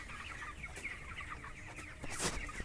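Chickens cluck at a poultry farm, scattered quiet clucks and short calls from several birds, fairly distant and soft, with a brief sharper squawk near the end.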